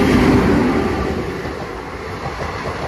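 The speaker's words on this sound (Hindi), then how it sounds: "हम लोग की ट्रेन चल पड़ी थी" A moving passenger train rumbles steadily with a dense, continuous roar from inside a rear coach, holding loud throughout with no voices.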